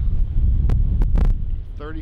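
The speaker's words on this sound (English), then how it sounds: "we have high winds tonight" Strong wind gusting at 35 to 50 miles an hour buffets the microphone with a deep, continuous rumble, broken by a few brief rustling knocks, at night.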